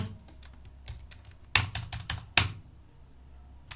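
Keys clatter on a computer keyboard in short, close bursts of crisp clicks, with a quiet stretch before a quick run of taps and a final sharp press, without any talk.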